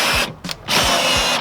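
A handheld power drill spins the window regulator inside a Mazda Miata door, a loud close whirring motor that cuts out briefly mid-run and then starts again at full speed.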